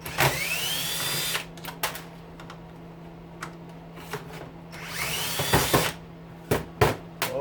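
Power tool driving a nut at high speed while a hedge clipper is taken apart, two bursts of whirring near the start and near the end with clicks and taps between, close and fairly loud.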